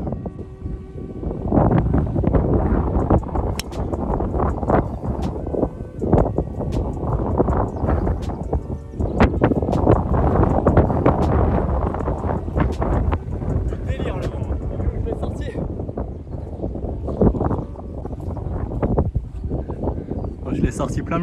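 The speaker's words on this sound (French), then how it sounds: "Le vent est encore une fois contre" Gusty wind buffets the microphone on a golf course, rumbling loudly in uneven surges under speech from players during a match.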